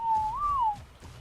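A single short whistle command in Ark: Survival Evolved, a clear pure tone that rises slightly then falls back, close and distinct over a faint quiet background.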